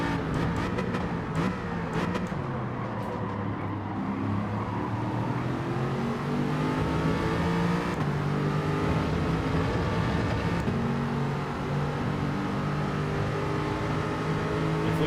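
Race car engines in Gran Turismo 7 drone steadily and loudly throughout, pitch rising and falling with gear changes as another car closes in behind in the slipstream.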